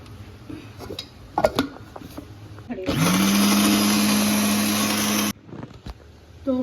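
An electric grinder whirs loudly for about two and a half seconds, pulverising roasted whole coriander seeds and cumin into a fine masala powder, with quieter kitchen clatter before and after the run.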